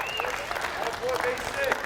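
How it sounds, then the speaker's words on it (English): An audience at a school captains academy event claps in a brief, dense burst of applause heard from within the room, with some voices mixed in. "Give them a round of applause"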